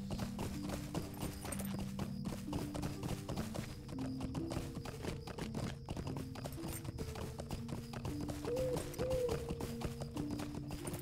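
A horse's hooves clip-clop in Lord of the Rings Online, a steady fast rhythm of faint hoofbeats over a soft musical background with no talk.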